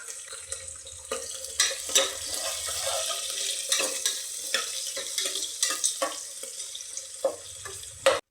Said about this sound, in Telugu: ఆ తర్వాత తాజీరా సన్నగా తరిగిన ఉల్లిపాయలు వేసి మంచి రంగు వచ్చే వరకు ఫ్రై చేయాలి